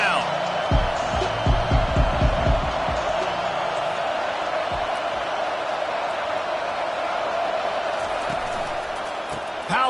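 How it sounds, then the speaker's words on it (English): Football stadium crowd roaring for the defense on third down, a loud sustained wash of massed voices with rhythmic bursts of claps or stomps early on, steady and continuous throughout. "Decibels rising as the crowd gets behind this defense on third down"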